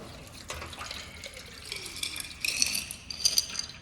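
Water drains and splashes from a tray of coarse aggregate sample in a lab, with trickling, small clinks of stones and metal, and a few louder sloshes near the end, fairly close and without speech.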